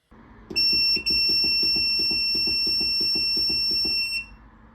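An ultrasonic record cleaner powering on gives a steady electronic alarm-like tone for about four seconds, with a quick repeating beeping pulse beneath it, loud and close, no talking.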